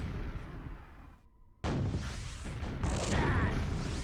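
A rocket jump explosion in a QuakeWorld duel: one sudden loud blast after a brief silent gap, followed by rumbling combat noise heard close.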